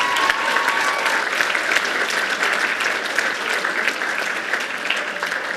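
An audience at an award ceremony applauds steadily, many hands clapping in a dense, even patter that carries on without pause, with no speech above it.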